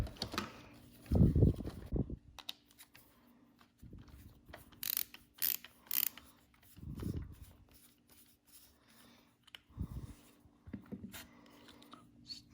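Small screws being removed from a singing fish animatronic mechanism with a broken head paddle, quiet scattered clicks and scraping of a screwdriver and plastic parts, close up with faint pauses between.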